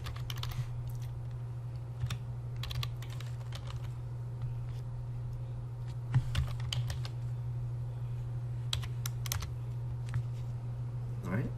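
Keystrokes on a computer keyboard tap out an address in quick irregular bursts, close and fairly quiet over a steady low electrical hum, with a few louder clicks partway through.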